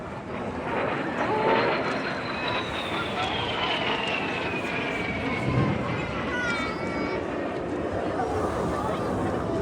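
Red Arrows display jets roaring overhead at a regatta air show, a loud sustained engine rush with a descending pitch sweep as they pass, under a commentator's voice.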